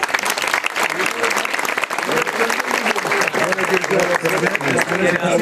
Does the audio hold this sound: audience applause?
yes